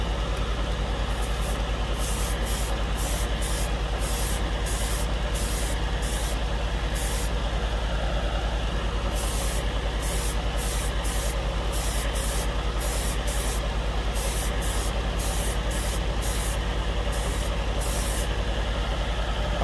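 An airbrush sprays Tamiya LP44 metallic orange lacquer, thinned with Mr. Leveling Thinner, onto a plain white plastic spoon: a series of short, sharp hissing bursts with brief pauses, over a steady low mechanical hum.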